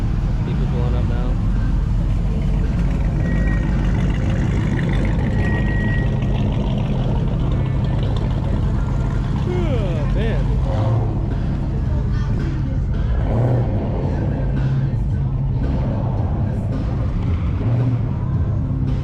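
Car engines rumble and idle as vehicles pull up at a classics-only cars and coffee gathering, with a loud, continuous low drone and people talking over it.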